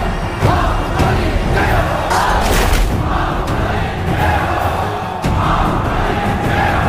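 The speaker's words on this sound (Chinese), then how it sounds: "呐喊的声音越来越大" A huge crowd of townspeople in an epic fantasy film roars and cheers for a new general at a royal coronation in a vast square, a loud sustained wall of shouting that swells steadily with brief dips.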